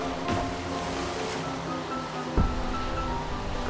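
A boat moves across sea waves in the video game Just Cause 2, with a continuous rushing wash of water and surf, a sharp splash-like thump partway through, and no talk.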